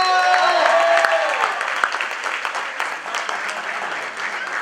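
An audience at a mentalist's show applauds and cheers for a volunteer called up on stage, with loud clapping and whoops at the start that ease into steady, slightly softer applause.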